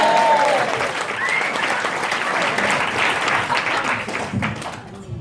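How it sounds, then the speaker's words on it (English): Wedding guests clap in a steady, loud burst of applause that fills the room, with a couple of whoops early on before it tapers slightly toward the end. "So that definitely deserves a round of applause."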